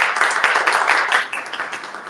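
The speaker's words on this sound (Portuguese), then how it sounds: "Aplausos para o professor." A seminar audience applauds a professor after a talk at a conference panel: dense, steady clapping from many hands that holds at an even level and eases off slightly toward the end.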